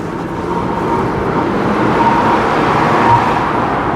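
A car engine runs steadily with a low, even rumble that swells slightly louder toward the end, heard close up with no talking.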